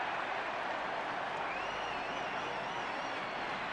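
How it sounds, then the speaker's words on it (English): A stadium crowd at Lansdowne Road cheers a rugby try by Ireland against the All Blacks in 2005, a dense, steady roar of distant voices and applause with faint commentary underneath. "A cheer at Lansdowne Road"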